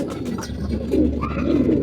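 Pigeons cooing close by, soft repeated low throaty calls overlapping in a continuous murmur.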